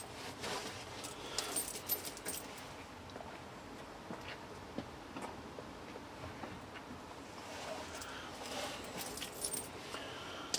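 Keys jangling as someone hunts for the car keys to a Land Rover Series 2, faint scattered metallic clinks over a soft, steady outdoor hiss.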